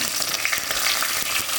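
Whole spices and a bay leaf frying in hot ghee at the start of ghee rice make a continuous, dense crackling sizzle, close and fairly loud with small pops throughout and no talking.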